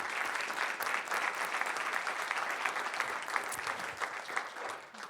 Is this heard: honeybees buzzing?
no